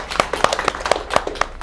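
Schoolchildren clap for a correct answer during a quiz competition at Harekrishna Kusumkali High School, a short burst of brisk, uneven handclaps from a small group, close and fairly loud, with some faint voices mixed in.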